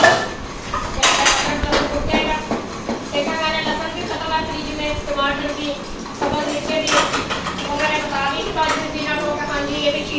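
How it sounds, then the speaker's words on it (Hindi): Dishes being washed in a home kitchen, with steel utensils clanking and clattering irregularly close by while someone talks over the running chores. "धो रही है बर्तन"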